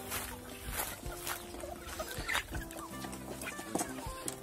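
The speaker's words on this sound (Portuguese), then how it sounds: "As galinhazinhas." Small farm hens clucking and murmuring on a rural property being set up with pasture for hay, a busy overlapping flock close by, with scattered rustling and no talk.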